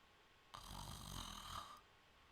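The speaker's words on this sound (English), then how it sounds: "That is a real yawn, by the way." A person yawns once, a deep, breathy, drawn-out exhale lasting just over a second, close and quiet with no talking.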